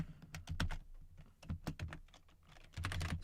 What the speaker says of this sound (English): Excuse my loud typing.